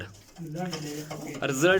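Racing pigeons coo nearby in soft, rolling throaty calls, a couple of overlapping phrases rising at the end, fairly faint against a quiet background.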